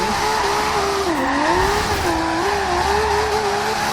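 An RB26-swapped Nissan S15 Silvia drifting in Forza Horizon 2, its engine droning at high revs with a wavering pitch as the tires squeal continuously, loud and up close with no talk.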